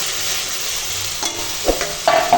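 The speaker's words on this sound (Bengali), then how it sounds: "দেখো এখন পাটের শাকটা ঢেড়ে ঢেড়ে রান্না করছি" Jute greens stirred and cooking in a pan, a steady broadband sizzle with a few utensil scrapes and clinks near the end, close and alone.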